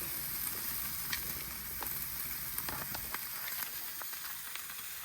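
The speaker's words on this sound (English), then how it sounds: "Let's get the sizzle." Steady, dense sizzling of a cowboy steak searing on a hot Oklahoma Joe's Rambler grill, with occasional sharper pops and crackles, close and continuous with no talking.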